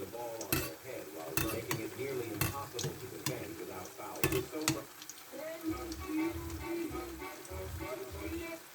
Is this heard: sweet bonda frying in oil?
yes